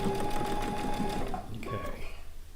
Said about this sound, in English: Now I'm just going to sew about to where the middle of that wonder clip is,